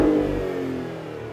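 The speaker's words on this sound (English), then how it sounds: "Give it a bit of a rev." A 2025 Maserati Grecale Trofeo's engine blips in a single short rev while parked, loud and close, the note swelling quickly then settling back down as it fades toward idle.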